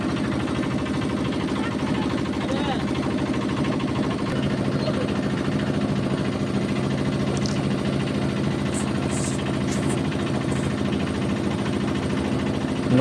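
A motorboat engine drones steadily on Dumbur reservoir in Tripura, a continuous low, throbbing hum that holds at an even level from start to finish.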